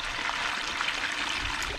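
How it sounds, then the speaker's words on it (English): A bilge pump pushes water out in a steady, continuous rushing stream, close and even in level throughout. "let me go ahead and hook the pump up, and we'll see what it does"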